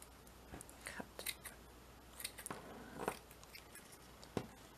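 Scissors snip through craft material for scroll dangle embellishments, giving soft, close, irregular crunchy cuts against a quiet background hiss.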